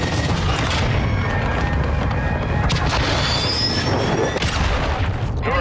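A grenade blast in a first-person shooter, a heavy booming explosion with crashing debris layered over constant loud game noise and distant gunfire, dense and close for the whole stretch.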